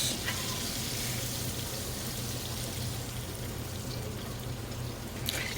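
Hot frying oil pouring and draining from a pan of crispy fried beef strips in a home kitchen, a steady close hiss and trickle that holds for several seconds with no talk.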